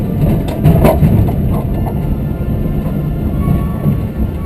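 A Seaton Tramway electric tram rumbles along rails with a low, steady rolling roar and a few brief squeaks and clanks.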